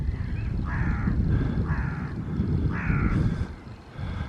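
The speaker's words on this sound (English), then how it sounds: "Hello, crows." Several crows caw outdoors, four or five harsh rasping calls spaced about half a second apart over a steady low rumble of background noise.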